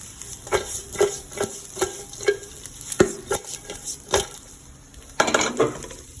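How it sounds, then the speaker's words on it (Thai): Fried fish pieces being stir-fried with chili and salt in a pan: a steady run of roughly a dozen close metal spatula clacks and scrapes over a soft sizzle, ending in a louder burst of frying hiss. "ใส่ เข้าไปแล้วเราก็จะมาผัดนะครับให้มันเข้าพริกเกลือนะ"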